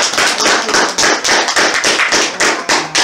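A small group claps in a regular, rhythmic beat, about a dozen sharp close claps in quick succession, loud and alone without talk.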